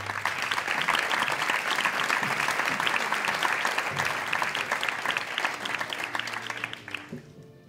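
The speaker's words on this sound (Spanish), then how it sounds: "la alcaldesa de Elgoibar, Ane Beitia, un fuerte aplauso para ella." Loud audience applause at a gala in Elgoibar welcoming the town's mayor, dense and continuous for several seconds before fading out, with a voice starting up as it ends.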